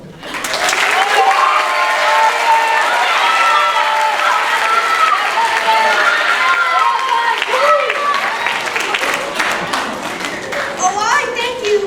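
An elementary school concert crowd breaks into loud applause and cheering, with children's voices shouting and whooping over the dense clapping, which swells and then tapers off toward the end.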